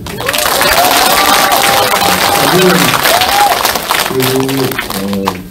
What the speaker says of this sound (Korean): 여러분 모두에게 박수다